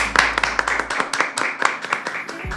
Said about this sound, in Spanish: Un aplauso para Mari.